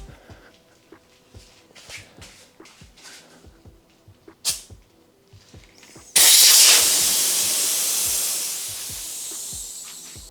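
A small Cycplus AS2 Pro Max electric pump inflates a bicycle tire through a hose with the valve core removed. A few faint clicks come first, then a loud, steady rush of hissing air that slowly tapers off.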